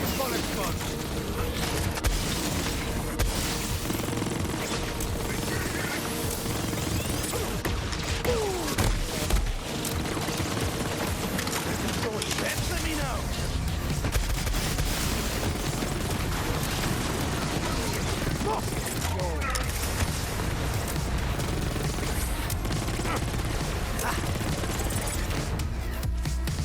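Relentless gunfire mixed with booming explosions in Borderlands 3, as Zane with a clone unloads on a giant boss, Wotan; loud, dense and continuous action throughout.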